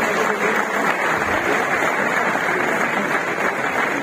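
Audience applause in a hall at a classical music festival, Alhamra Hall in Lahore: a dense, steady wash of clapping that holds at an even level throughout, with no voices standing out.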